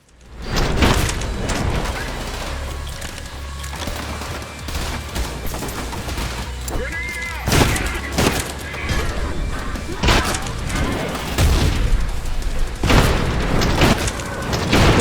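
Shotgun fire and combat in the video game Trepang2 keep up constant loud booming blasts and rapid gunfire, with crashes and explosions layered in a dense, unbroken wall of action sound, and no speech over it.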